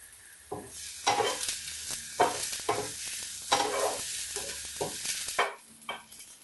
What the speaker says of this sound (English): For Baingan methi, first fry the aubergines in hot oil.